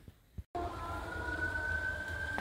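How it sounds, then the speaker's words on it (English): A siren wails steadily in the distance after a brief pause, a sustained tone holding over low rumbling background noise. "Sirens."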